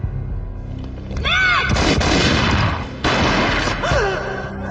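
Loud booming Desert Eagle gunfire in the video game Max Payne Mobile, with heavy rumbling blasts and sharp impacts, amid tense synthetic tones and swooping sound effects.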